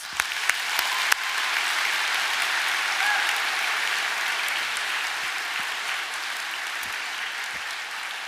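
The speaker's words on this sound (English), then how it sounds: "A huge round of applause for our sponsors, please." A large crowd at the BTYSTE 2024 opening ceremony applauds the sponsors. A few sharp individual claps open it before full, even applause swells in and holds steadily, moderately loud, with no voices.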